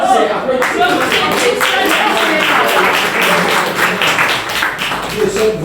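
Loud, dense applause and clapping from an audience at a 50th-anniversary Fiat community celebration, filling the scene steadily with a few shouts and voices mixed in.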